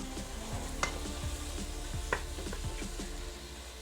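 Ground meat with garlic powder, cinnamon, ginger and turmeric frying in a pan for Pakistani kima, a steady close sizzle broken by a few light scrapes and taps of the stirring spoon.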